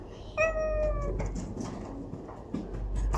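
A single cat meows once, fairly close, followed by soft background rustling and faint household noise.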